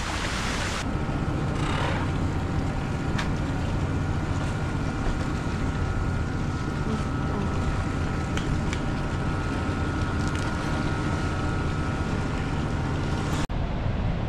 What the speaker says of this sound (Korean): 보면서 파도와 함께 잠을 잘 수 있을 것인가. 파도가 너무 센데?